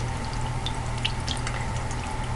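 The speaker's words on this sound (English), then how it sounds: "you just want to keep washing it until the water runs clear" Tap water running steadily while a makeup brush is rinsed clean, a soft constant stream with faint splashes and drips close by, fairly quiet and with no talking.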